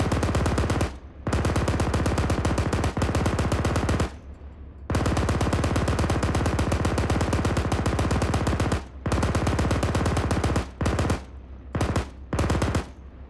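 A .50 cal vehicle machine gun in ArmA 3 hammers at a BTR in long sustained bursts, rapid close-up rounds broken by a few brief pauses and shorter bursts near the end.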